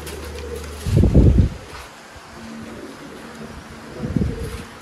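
Pigeons cooing nearby in two low, throaty bursts separated by a pause, over a steady background hiss, in Sialkot, Pakistan.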